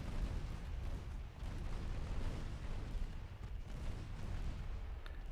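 Warship guns booming in a naval battle in Ultimate Admiral Dreadnoughts, a dense, distant-sounding rumble of continuous artillery fire with no talk over it.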